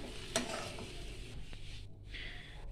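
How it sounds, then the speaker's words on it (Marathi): Potato stir-frying in a pan for kat vada, a low steady sizzle with occasional stirring scrapes and one sharp clink early on, fairly faint and close. "तर व्यवस्थित हा बटाटा परतून घ्यायचा."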